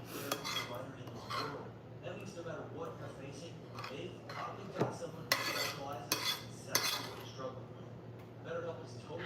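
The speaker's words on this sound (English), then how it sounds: "Alright, so stirring this, bring to a boil and stir for 5 minutes." Pumpkin spice oatmeal being stirred in a pot, with repeated clinks and scrapes of a spoon against the pot at close range, while a person talks over it throughout.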